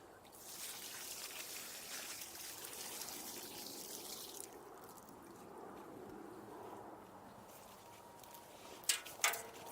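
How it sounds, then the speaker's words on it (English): Water is poured around the roots of a newly planted fruit tree in a backyard food forest, a faint, steady trickling and splashing with a couple of light knocks near the end. "My favorite way to get the soil all around the roots of a newly planted tree is to really just water it in very well."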